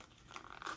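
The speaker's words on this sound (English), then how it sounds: "Tear along dotted line." A short crinkly rip of thin packaging, a quick tearing burst with papery crackle, close and fairly quiet, no voices.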